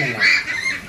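Ducks on a duck farm give a brief burst of nasal quacking calls at moderate distance, lasting under a second with no talk.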